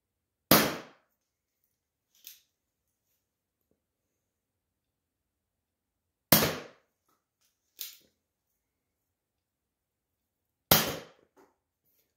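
A hand-modified Nerf blaster fires 7.2 Eva darts: three sharp, loud pops spaced several seconds apart, each followed about a second later by a softer tap as the dart lands, with silence in between.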